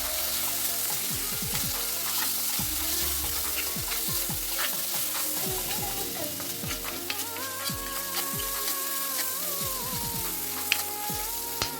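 Spices fry in a pan for cutlets, with a continuous loud sizzle and repeated scraping strokes of a spoon stirring the mixture close by.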